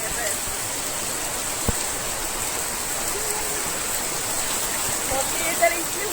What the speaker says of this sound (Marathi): पाऊस जबरदस्त टायमिंग पडला